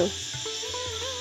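Crickets chirping at night in a rural home, a steady, shrill, unbroken trill held fairly faint and even throughout the short moment.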